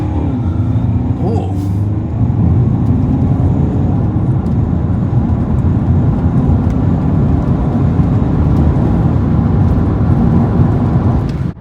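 A 2.0 TDI diesel Audi A5 Sportback with S-tronic gearbox launching from standstill, a loud, steady deep engine roar building continuously, with a short exclamation from a person early on.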